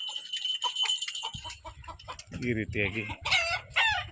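In a yard of about a hundred chickens, chickens cluck in quick bursts, then a rooster lets out a loud crow, with a voice speaking briefly under the calls.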